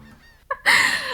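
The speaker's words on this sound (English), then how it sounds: "They stretch their necks and squawk loudly." Seagulls on a beach in the video game Love and Deepspace let out a brief squawk followed by a louder, sustained harsh cry, close and prominent over a quiet background.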